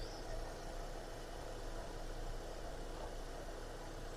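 A 2012 Skoda Octavia A5 1.6 MPI engine, running on factory-fitted gas, idles smoothly and steadily, a low even hum with no changes in pitch or roughness, heard close up.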